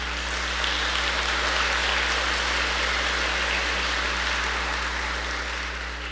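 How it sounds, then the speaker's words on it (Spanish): Sustained applause from a church congregation, a steady dense wash of clapping held for several seconds at even loudness with no talk over it. "¿Qué tal si usted le da un aplauso al Señor por eso?"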